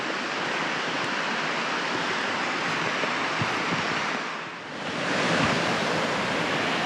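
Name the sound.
waterfall on the River Wharfe, Yorkshire Dales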